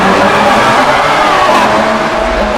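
A DMC DeLorean engine in a racing video game drones loudly and continuously, a dense revving tone with steady pitch that holds for the whole short stretch.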